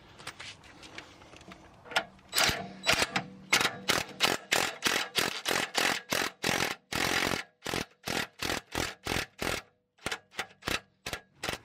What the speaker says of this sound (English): Now all that's left to do is tighten down the securing nut on the ball joint end.